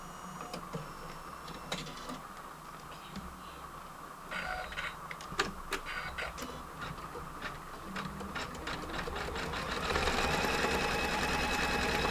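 An embroidery machine stitching a dense design, its rapid mechanical needle ticking and whirring running steadily and growing louder and busier toward the end, with no voices.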